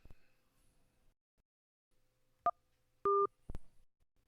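Touch-tone dialing on a telephone line during a radio call-in show: a few short, clean dual-tone beeps spaced apart, close and clear over near silence, with no talking.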